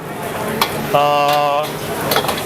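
Hainanese fried rice sizzles steadily in a pan while being stirred, with a few clinks of a utensil and a brief tonal hum partway through.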